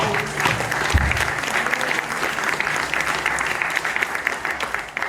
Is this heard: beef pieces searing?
no